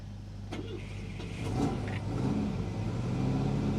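A GSA car engine cranks and catches, settling into a low steady idle beneath a constant background hum from a loud generator.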